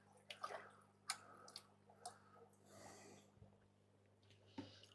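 Water from an external aquarium filter drips and splashes in faint, scattered plips, with quiet breathing and handling noises under a low hum.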